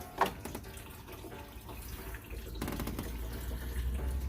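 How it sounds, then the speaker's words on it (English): Coolant draining from the opened radiator petcock of a 2005 Chrysler 300C 5.7 Hemi, a faint continuous trickle and splash of liquid with a few soft knocks, no talking. "I'm going to drain that radiator so I can get all these hoses disconnected."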